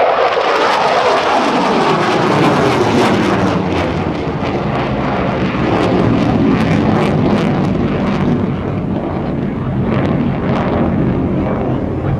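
An F-16 Fighting Falcon with a General Electric engine roars past at a military airshow at NAS Oceana, a loud jet blast that swells and sweeps through, then trails off into a rumbling roar over about twelve seconds.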